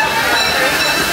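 Loud, steady hissing rumble of the Disneyland Railroad train close by, with broadband rushing noise filling the whole moment.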